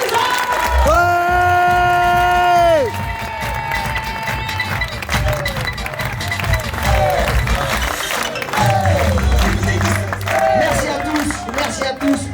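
An audience at a hotel director's cocktail evening in Marrakech applauds and cheers loudly, with long rising vocal cries over the opening seconds and dense clapping and crowd noise continuing throughout.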